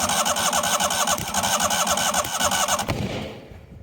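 A neglected 1998 Yazoo YTKC22 three-wheel mower cranks repeatedly, a rapid rhythmic chugging with a shrill squeal on top, close and loud, then cuts off abruptly and fades into quiet.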